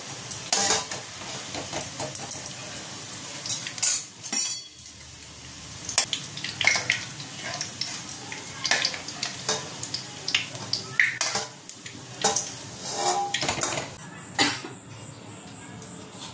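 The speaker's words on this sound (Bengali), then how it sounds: "পেঁয়াজগুলো দেখো একেবারে লাল লাল করে ভাজা হয়ে গেছে।" Onions fry in hot oil for chicken biryani, a steady sizzle and hiss with frequent scraping stir strokes and clinks of a spatula against the pan, close and fairly loud.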